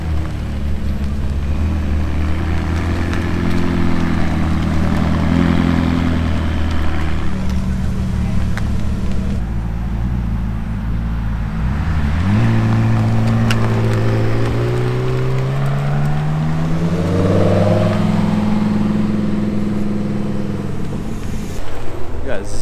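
A McLaren 600LT supercar with top-mount exhaust drives off, its engine droning low then revving up in rising sweeps, loud and close, with people talking over it.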